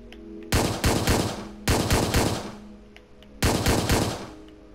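Gunfire in Hotline Miami 2: three loud, close bursts of rapid automatic fire, each about a second long and roughly evenly spaced, with short gaps of quiet between them and no talking.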